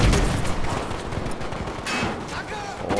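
Rapid bursts of gunfire from the video game Battlefield V crackle close and loud, with a talking voice mixed in underneath.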